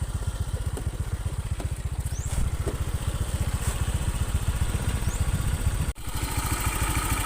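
A Honda Vario 125 FI scooter idles a little high at around 1700 rpm, a steady close-up mechanical putter with even rapid pulses running throughout and a brief dip near the end.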